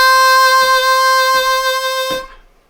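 Bb harmonica playing a sustained chordal lick, one long held tone broken by three quick 4 draw scoops on the offbeat before it fades out.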